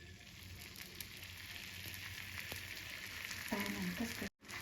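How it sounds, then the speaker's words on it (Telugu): Beaten egg frying in half a teaspoon of butter in a pan, a faint steady sizzle that continues throughout, with a brief utensil clatter near the end. "ప్యాన్లో హాఫ్ టీ స్పూన్ బటర్ వేసుకోవాలి ఎగ్ బీట్ చేసుకున్నాం కదా అది వేసేసుకోవాలి"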